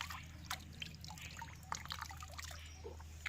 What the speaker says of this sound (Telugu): ఇక్కడ చిన్న చిన్న నీళ్ళు అయితే పారుతున్నాయి